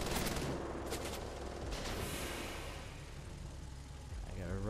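Rapid gunfire in the World War II shooter video game Wolfenstein: The Old Blood, a dense continuous fusillade that stays fairly quiet under a player's excited talk.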